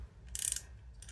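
A ratchet working on bolts of a Honda Shadow bobber motorcycle, a single brief burst of rapid clicking up close, followed by a faint second click, with no talking.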